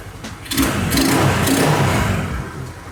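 Honda Vario scooter fitted with a CPO PE24 carburetor, engine blipped up from idle and held at a buzzy, raspy rev before easing back, close and fairly loud.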